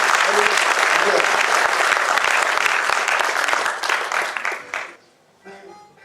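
An audience at an Om Puri memorial event claps loudly and steadily, the applause thinning and dying away near the end, leaving a faint voice and room quiet.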